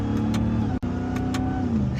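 Ram TRX pickup truck engine held steady at a loud, close rumble through a paddle-shift downshift, with a brief sharp dip midway and a faint rising whine toward the end.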